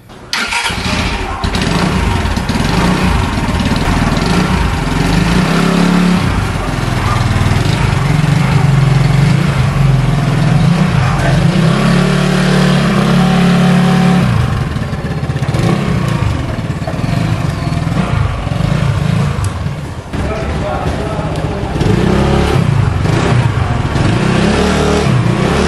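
An Easyride 150 P motorcycle engine runs loud and close for the whole stretch. It holds a steady idle and revs up and down several times, with rough mechanical clatter beneath.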